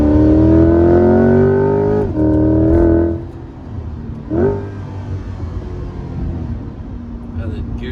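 A Chevrolet Corvette C8 engine revs up and drops back through shifts between second and third gear, a loud close drone that steps down at each change and then settles to a lower hum, with someone talking over it.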